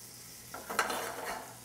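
Onion frying in a pan, a soft steady sizzle with some stirring and a brief scrape near the middle, close and fairly quiet, with no voices.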